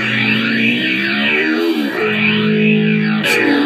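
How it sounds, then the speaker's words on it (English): An electric guitar runs through a modern distortion preset on an amp simulator VST plugin in Sequel 3 with Halion Sonic. Heavily saturated, sustained chords ring loud and continuous, with a brief pick scrape near the end. "Let's go for modern, like distortion."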